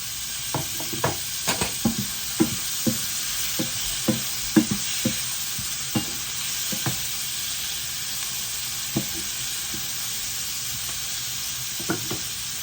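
Tomatoes sautéing in a pan for a curry give a constant soft sizzle, punctuated by a dozen or so sharp spatula clinks and taps spread unevenly across the stretch.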